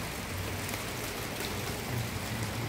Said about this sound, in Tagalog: Oh yeah, umuulan na.